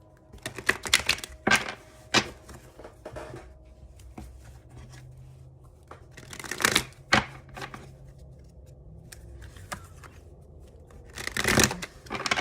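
Tarot cards are shuffled by hand in several quick riffling bursts with quiet pauses between them, close and crisp, and there is no speech.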